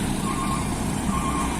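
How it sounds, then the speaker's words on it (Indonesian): An Agramas Mercedes OC 200 RF 2542 double-decker Trans Jawa bus pulls in at a terminal: a steady, close engine rumble carries a repeating warning beep, with no talk over it. "Double decker Agramas masuk."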